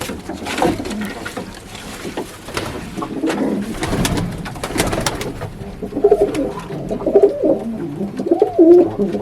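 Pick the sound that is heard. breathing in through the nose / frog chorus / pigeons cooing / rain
pigeons cooing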